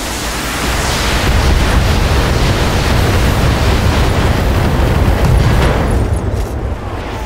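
Heavy mech weapons fire in the BattleTech video game as a dense, roaring wall of blasts and rumbling booms. It runs loud and continuous for several seconds before tapering off slightly at the end.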